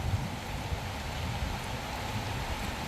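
Steady rain falls outdoors in an even, continuous hiss of moderate loudness, with soft low rumbles beneath and no distinct voices.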